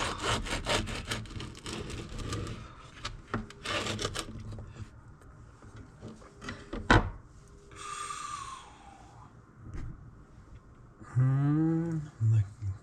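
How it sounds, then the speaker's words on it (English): A knife slices French bread at an angle in a series of rapid rasping sawing strokes, close and fairly loud, with a few sharp crackles of crust and someone talking between the cuts. "I'm going to cut a slight angle to it, that way my slices are a little bit longer"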